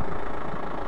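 A TVS Apache RTR 200 motorcycle fitted with an Akrapovic exhaust idles close by, a loud, steady low engine rumble held throughout without speech.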